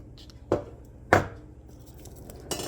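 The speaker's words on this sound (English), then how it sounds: "Here we're just gonna tap on the garlic." Garlic cloves struck on a kitchen cutting board to loosen the skins, three distinct sharp taps spaced about half a second apart, close and alone.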